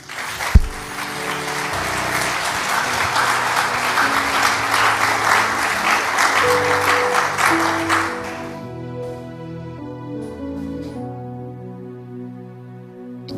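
A church congregation bursts into loud, sustained applause to acclaim Jesus during a worship service. The clapping lasts about eight seconds, then thins out and gives way to soft keyboard music.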